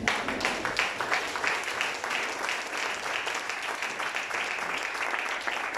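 A church congregation applauds Jesus during a French-language sermon, with steady, sustained clapping from many hands at moderate volume across the whole stretch and faint voices mixed in.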